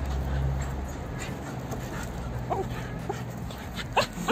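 A husky whimpers in short, high, faint yips and whines against a constant background hiss, with a louder squeal near the end.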